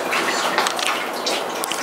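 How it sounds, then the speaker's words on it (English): Juice being poured into a glass, a faint steady liquid trickle lasting under two seconds, heard alone with no talk over it. "Did you pour me juice?"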